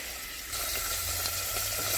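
Pork chops and vegetables sizzle in a frying pan. The hiss is quiet at first, then grows louder and fuller and holds steady to the end, with no voices.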